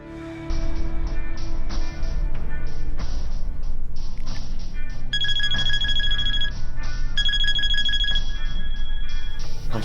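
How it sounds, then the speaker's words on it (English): A cell phone rings loudly in an action movie, repeating a bright electronic ringtone in rapid, evenly spaced bursts for about ten seconds, with a second, higher tonal pattern layered in partway through and no talking. "My cell phone."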